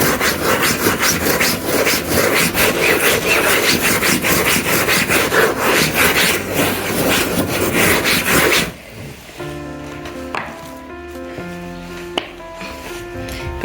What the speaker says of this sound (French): Généralement, moi, j'aime mettre la mousse comme ça. Puis je brosse avec.